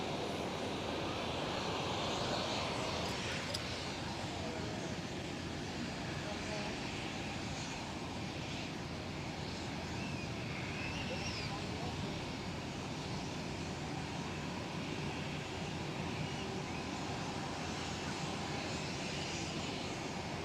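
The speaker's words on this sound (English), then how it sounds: "And another KLM 777-200 is lining up right now on runway 24." A KLM Boeing 777-200 lines up on runway 24 at Schiphol, Amsterdam, giving off a steady, broadband jet engine roar heard from a distance with wind noise, while a person talks over it.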